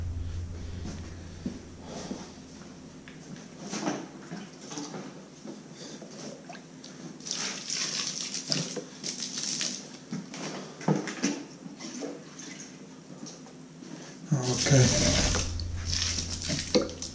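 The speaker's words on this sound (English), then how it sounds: "So I'm gonna put a little water." Water poured into a worm bin, a soft splashing and trickling that builds in patches and surges near the end, close by and moderately loud.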